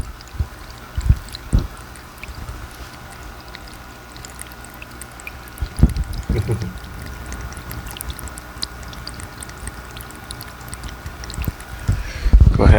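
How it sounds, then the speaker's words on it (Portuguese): Water trickling and splashing continuously in a DIY zen fountain driven by a small pump, a steady close gurgle with occasional light knocks and clicks, no talking. "Reparem no barulhinho de água gostoso, que é o esperado."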